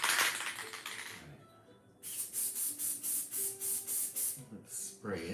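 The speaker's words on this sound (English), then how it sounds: "Let's spray it." Hot pink spray paint hisses out of an aerosol can in about eight short rhythmic bursts, each a loud close pulse of spray with brief gaps between, following a stretch of room noise and rustling.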